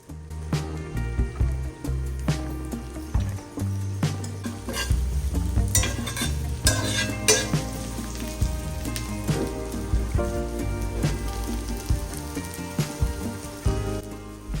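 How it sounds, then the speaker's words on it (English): Dandelion pieces frying on a large hot skillet over medium heat, a steady dense crackle and sizzle that carries on without pause, with sharper pops and spits now and then, close and alone with no talk. "just throw them on a hot skillet"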